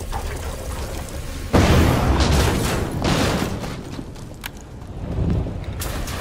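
A bomb going off in the Resident Evil 2 remake: an abrupt heavy blast followed by seconds of rolling rumble and clattering debris, loud and close.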